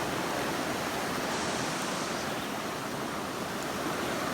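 A river riffle and a small waterfall pour in a steady, full rushing roar, close and loud, unbroken for the whole stretch with no talking.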